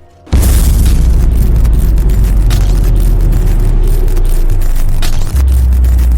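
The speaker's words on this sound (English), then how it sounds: "that's when the explosion and light show begins" A huge explosion booms in loud and close after a brief hush, then a heavy roaring rumble holds for several seconds before easing slightly near the end.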